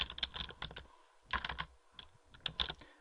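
Rapid bursts of keystrokes on a computer keyboard while writing C code, clattering close and clear in three clusters separated by brief pauses, with no talking.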